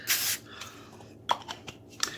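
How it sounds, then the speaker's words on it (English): A short, breathy hiss of a spray bottle at the start, followed by a few faint clicks and soft handling taps. "So I will spray these. Give them a quick spray."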